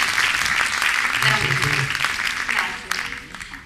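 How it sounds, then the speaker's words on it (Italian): A crowd applauds steadily and loudly, dense clapping that continues throughout and tapers slightly toward the end. "farei ancora un bellissimo applauso"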